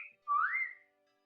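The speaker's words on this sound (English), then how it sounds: "That's someone's notification." A whistle-like phone notification during a live stream, a single short upward-sliding tone, clear and moderately loud against silence.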